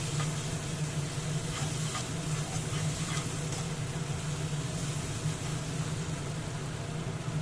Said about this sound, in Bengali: ভালো করে কষিয়ে নিতে হবে। মশলাটা কষানো হয়ে গেছে।